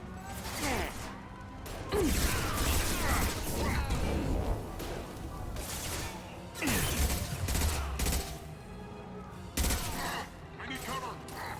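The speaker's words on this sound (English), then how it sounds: "Taking heavy fire!" Sustained heavy gunfire rattles through a firefight in Mass Effect 2, dense bursts overlapping with clanks and whooshes at a steady loud level, with a few sharper shots punching through.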